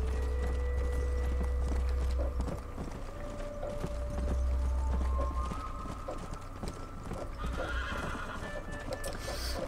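Galloping horse hooves in Red Dead Redemption, a rapid clip-clop rhythm beneath a low rumbling drone, with a brief whinny and mechanical clinks near the end.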